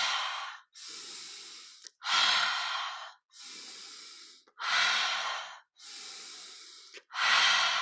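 Deep, full breaths during guided breathwork, a steady cycle of long airy inhales and softer exhales close to the microphone, about six in a row with brief gaps between them.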